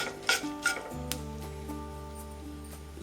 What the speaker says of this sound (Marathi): आता आपल्याला यामध्ये कैरी टाकायची आहे